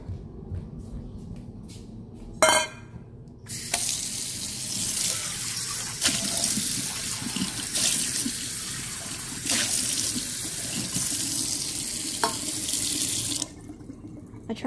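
A kitchen tap runs water into a pet's bowl, a steady splashing gush with brief knocks and clatters, starting after a short quiet moment and cutting off near the end.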